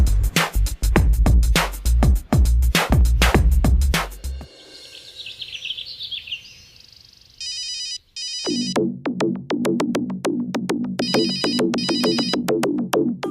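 A loud electronic ringtone plays repeatedly, a melodic ringing pattern interrupted briefly by a quieter chirpy tone before resuming.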